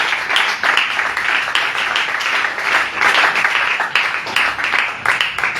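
A church congregation applauds the King of Kings during a service, with sustained, dense clapping from many hands that keeps a lively, rhythmic pulse, close and loud.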